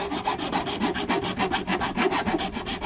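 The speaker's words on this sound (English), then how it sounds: "It's gonna take a while to file all that down so it's nice and smooth." A hand file scrapes a part for a Honda Rancher fishing rod holder smooth, in quick, even, rhythmic rasping strokes that repeat steadily and close up.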